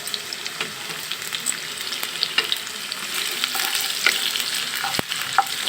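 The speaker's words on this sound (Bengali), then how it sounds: "ফ্রাই প্যান বসিয়ে তেল গরম করে নিয়েছি এবার আমি দিয়ে দিব কেটে রাখা পেঁয়াজ কুচি দিয়ে দিব শুকনো মরিচ দিয়ে দিব তেজপাতা" Chopped onion, dried chili and bay leaf fry in hot oil in a frying pan for bhuna khichuri, a steady close sizzle and crackle with occasional stirring scrapes, no voices.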